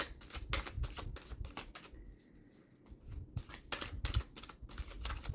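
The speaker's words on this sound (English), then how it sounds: "I am going to shuffle until you spit a card out." Tarot deck being shuffled by hand, a run of rapid papery riffles and card flutters in short bursts with a brief quieter pause midway, close and fairly soft.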